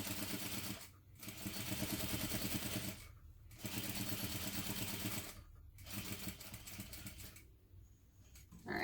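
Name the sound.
sewing machine stitching fabric along a drawn line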